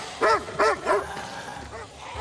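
A dog lets out three quick barks close by, followed by a softer whimpering yip, in a tense outdoor scene from a zombie drama.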